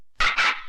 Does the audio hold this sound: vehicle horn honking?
no